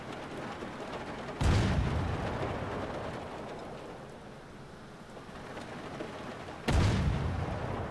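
A deck gun fires twice aboard a U-boat in UBOAT, each a heavy booming blast that rolls away slowly, several seconds apart, over a steady wash of rough sea and wind.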